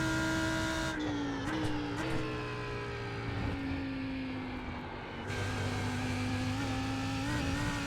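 Lamborghini race car engine in a sim racing game, a steady droning tone that holds and shifts slightly in pitch with a couple of brief dips, fairly quiet and with no talking.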